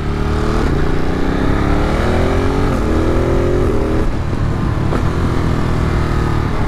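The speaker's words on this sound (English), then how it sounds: "now I got all the loudness in my exhaust" A Ducati motorcycle engine roars continuously, its revs rising and dropping between gear changes, loud and close with a throaty stock exhaust note throughout.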